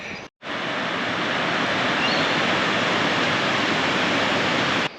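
Steady, dense rush of falling water, loud and continuous without pause, like standing close to a waterfall in the Bellingen rainforest.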